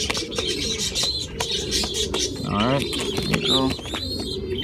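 A racing pigeon chick coos softly in short gurgling phrases while being handled for banding, with someone talking close by over the sounds.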